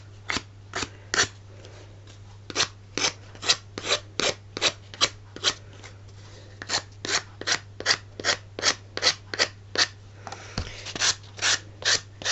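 Steady rhythmic rubbing by hand across a leather boot surface, roughly two brisk scratchy strokes per second, close and clear with no talking, over a constant low hum.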